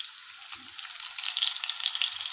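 Onion hits melted butter in a pan for chicken liver cooked in cream, a bright close crackling sizzle that grows slightly louder over a couple of seconds, with faint low clunks beneath.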